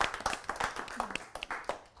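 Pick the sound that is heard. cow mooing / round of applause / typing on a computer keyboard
round of applause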